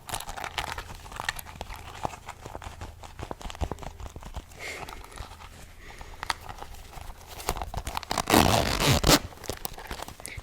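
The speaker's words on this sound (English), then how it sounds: "And then there's like this thing down here, which zips open." The zipper on a Christmas gift pocket is pulled open in short rasping bursts, close up and crisp, mixed with crinkling and handling noises, with a longer louder zip near the end.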